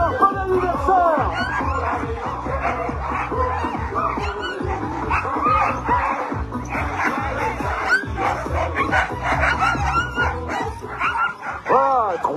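Sled dogs harnessed in a team at the start of a stage of a mountain sled-dog race bark, yip and whine continuously and loudly up close, a dense overlapping chorus with voices talking underneath.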